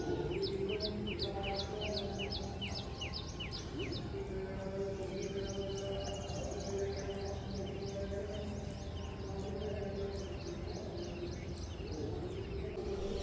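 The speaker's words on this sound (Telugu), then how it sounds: "పచ్చడి చెట్ల మధ్యలో కూచే కోయిల కూతలు పిచ్చుకల అరుపులు" Repeated bright sparrow chirps and koel calls ring out in bursts over a steady outdoor background hum, with a few clearer whistled calls among them.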